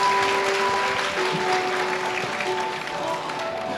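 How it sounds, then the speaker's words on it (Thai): Guests applaud the bride's and groom's parents at a wedding reception in Bangkok's Renaissance hotel, with dense, continuous clapping over a faint sustained musical tone and some background voices. "ขอเสียงปรบมือให้คุณพ่อคุณแม่อีกครั้งนึงนะครับ"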